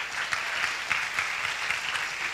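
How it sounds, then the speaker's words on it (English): At a sexual and reproductive health and rights conference, an audience applauds a young woman, with steady, moderately loud clapping from many hands and a few sharper individual claps punctuating the wash. "Please clap for her."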